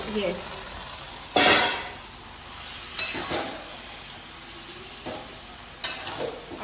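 Goat meat frying in hot spiced oil, giving a steady close sizzle with several louder hissing bursts as pieces are added and stirred.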